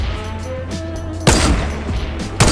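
Gunfire in Fortnite during a 50 v 50 match: two loud sharp shots cut through a steady hum of in-game ambience, one near the middle and another just before the end.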